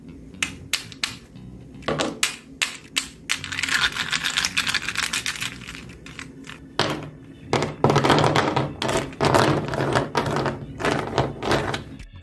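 Hardened homemade air-dry clay craft tapped repeatedly, crisp close knocks and clicks in irregular bursts, some quick rattling runs, fairly loud against a quiet room with no talking.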